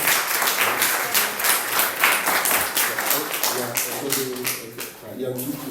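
A church congregation claps to welcome newcomers during a Sunday service, brisk irregular applause that thins out toward the end as a voice begins to speak.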